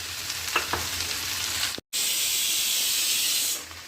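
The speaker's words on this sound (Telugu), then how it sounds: "ఈ గ్రౌండ్ నట్స్ని ముందుగా మనము షాలో ఫ్రై చేసుకోవాలి వితౌట్ ఆయిల్" Groundnuts dry roasting in a pan without oil for a capsicum peanut dish give off a loud, steady hiss and crackle close by, broken by one brief silent gap, with no talking.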